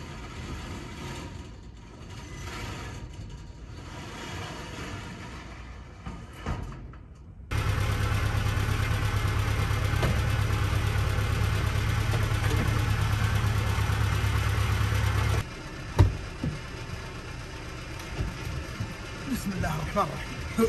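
An engine runs to jump-start a Mercedes abandoned for seven years. A steady mechanical idle hum starts abruptly midway, runs for several seconds and then stops, with people talking before and after it.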